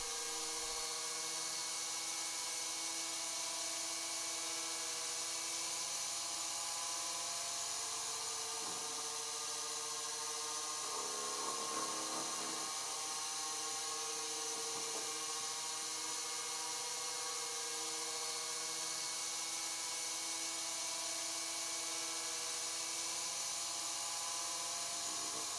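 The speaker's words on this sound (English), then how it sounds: "The rod's now chucked in the lathe where I establish the final height of the blister as well as develop the pin that's essential for mounting." A metal lathe turning a brass rod gives off a steady, faint, high-pitched whine with a constant hum, while a few soft scraping cuts come and go midway.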